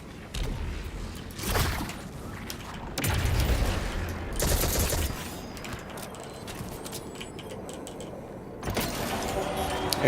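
Auto rifle fire in Destiny 2, sustained rattling bursts mixed with other combat sounds, moderately loud with short breaks between volleys.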